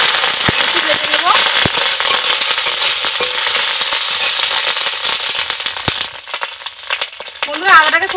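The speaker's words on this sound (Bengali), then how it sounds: "বন্ধুরা আদাটাকে খুব ভালো করে ভেজে নিয়েছি।" Ginger paste sizzles in hot oil with black cumin seeds, a loud, dense crackle full of sharp pops that eases slightly toward the end while a voice briefly sounds.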